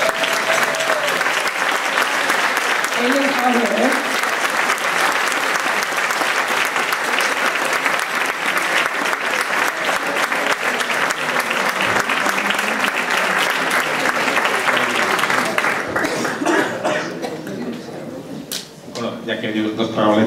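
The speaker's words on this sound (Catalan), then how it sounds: "un aplaudiment per a Javier Moya" Sustained crowd applause at a provincial dance gathering honours a helper, dense clapping holding loud for about fifteen seconds before thinning out, with brief talk near the end.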